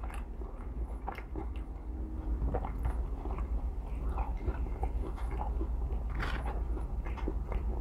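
Someone chews crunchy McDonald's Spicy McNuggets close to the mic, with repeated soft crunches and wet chewing sounds in an irregular rhythm over a low background hum.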